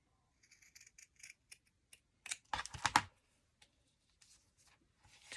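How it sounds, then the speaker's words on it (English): Scissors snip through paper while trimming a small scrap booklet, a scatter of short crisp clicks and cuts building to a louder cluster of snips in the middle, then fading to a few faint taps. "Cut a little bit off the bottom."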